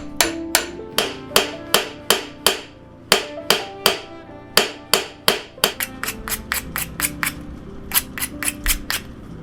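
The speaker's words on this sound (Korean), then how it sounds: "수없이 망치로 두드려야 매끈한 곡선을 얻을 수 있습니다." A master metalsmith hammers silver by hand to shape a silver cup. Some two dozen sharp, ringing metal strikes come close and loud, first at an even measured pace, then quicker and lighter. No one speaks.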